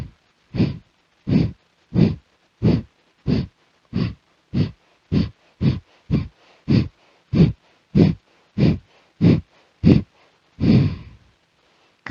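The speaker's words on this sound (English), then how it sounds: "Breathing in and out through the nose. Forceful exhalation through the belly." Forceful nasal exhalations from pranayama breath work, about seventeen sharp, evenly spaced puffs of breath through the nose, close and clear, with a slightly longer final exhale.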